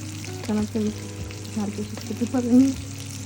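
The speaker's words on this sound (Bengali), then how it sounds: "এই তো মাছ ভাজা হয়ে গেছে" Hilsa fish frying in a pan, a steady close sizzle under a low hum, with a few brief tonal squeaks and clinks rising over it.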